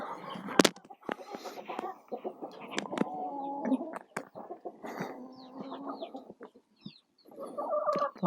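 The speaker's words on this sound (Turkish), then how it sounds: "Şimdi tavukları atacağım." Several hens cluck and murmur close by in a busy, overlapping stream, with a few sharper squawks and brief pauses.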